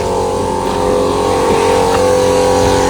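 A steady, loud engine drone with a low, even hum and no pauses, like a tractor idling or running nearby.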